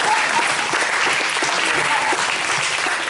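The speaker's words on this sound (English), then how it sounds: "Carissa, I want to give you applause for mastering and navigating all those Russian names." An audience at a book reading applauds the reader, dense sustained clapping from a room full of people, steady and close throughout.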